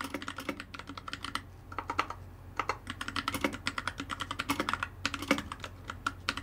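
Rapid, uneven typing clacks on a Hemingway Freewrite Signature Edition writing device, inside its case, going along steadily, close and crisp, with brief pauses between bursts of keystrokes.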